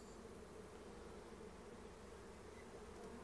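Dense, steady buzzing of many honeybees at an open, healthy hive colony carrying pollen, a close continuous drone with no voices.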